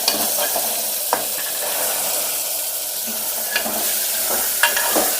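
Soaked green peas fry with turmeric in a pan, producing a continuous close sizzle with occasional spoon scrapes and taps against the metal, and no talking.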